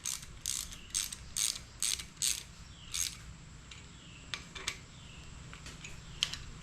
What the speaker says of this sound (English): we're putting in our ARP head studs right now